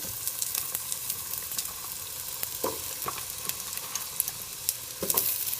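Onions fry in a hot pan over medium-high heat, giving a steady close sizzle broken by a few soft crackles and stirring sounds.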